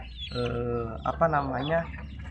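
A chicken, sick with a crop that will not empty and refusing to eat, clucks and croons in a short run of close, harmonic calls, with a faint voice beneath.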